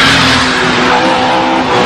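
A Toyota AE86 Corolla Levin or Sprinter Trueno skids on a badly surfaced, narrow mountain road, its tires squealing loudly over a hard-revving engine, close and continuous throughout.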